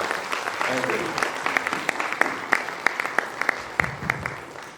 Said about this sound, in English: on behalf of you, a round of applause for all of you